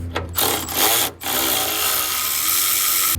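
A power tool or ratchet backs out two 10mm bolts from the sensor module on a 2017 Chevy Duramax 6.6L L5P, short loud whirring bursts separated by brief pauses, close up.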